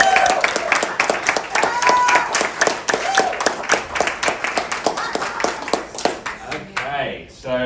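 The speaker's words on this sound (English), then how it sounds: "Let's have another round of applause for Ricardo" Audience applause for Malibu's first poet laureate at a poetry event, dense clapping with some cheering and overlapping voices, tapering off near the end.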